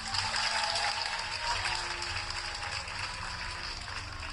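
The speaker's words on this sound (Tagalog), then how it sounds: "Ang hina naman ang palakpak nyo." Crowd at a PDP Laban proclamation rally clapping for the senatorial slate, continuous dense applause holding at an even level from start to finish, heard alone without speech.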